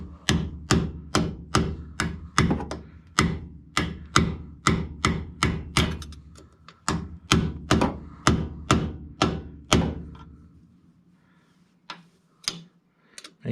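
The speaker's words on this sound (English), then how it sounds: "I'm going to probably use this chisel to start it." A hammer strikes a chisel against the metal of a 1974 MG Midget rear brake part, a steady run of sharp, ringing metallic blows about twice a second, then a pause and a few scattered final taps.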